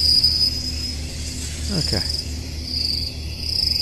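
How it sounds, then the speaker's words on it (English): Crickets chirping in a steady high-pitched trill heard in American Truck Simulator, continuing throughout, with a brief spoken word from a person partway through. "Is this a song, or is it just going to be cricket chirping?"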